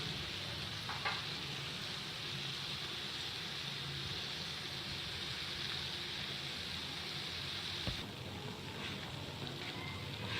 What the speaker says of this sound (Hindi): आप इस तरह से ये फ्राई करें।